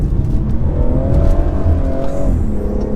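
A 2017 BMW 440i Gran Coupe engine revving hard while driving, a loud steady rising drone heard from inside the car.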